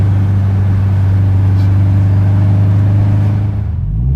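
A loud, close Subaru Forester engine idles with a deep steady rumble and an uneven, choppy camshaft lope, settling slightly lower toward the end.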